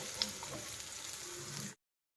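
Chopped onion pieces roasting in oil with cloves, cardamom and shahi jeera, giving a steady close sizzle with a small sharp tick near the start before the sound cuts off.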